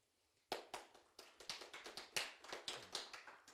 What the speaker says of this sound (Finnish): niin taputukset